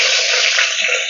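Cumin, mustard seeds, onion and dried chilli sizzling in hot oil in a pan, a steady bright hiss that holds level and close for about a second with no talking.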